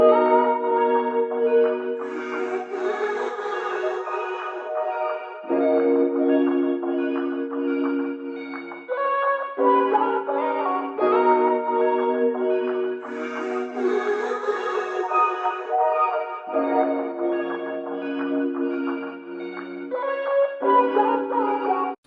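Moody R&B sample built on a Rhodes electric piano with effects, lush sustained chords that swell and shift every few seconds, full and steady throughout with no voices.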